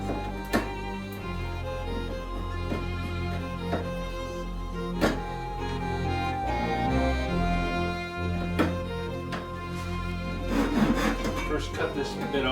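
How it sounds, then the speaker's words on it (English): Excess wooden wedge is trimmed from a Norlund hatchet handle, heard as close, uneven rubbing and scraping strokes with a few sharp knocks, while someone talks in the background. "I need to trim off the excess wedge that I've got in there."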